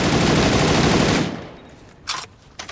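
Rapid automatic fire from a G36 Fresco rifle in the online shooter A.V.A, a loud continuous burst that stops and trails off, followed by two short separate shots.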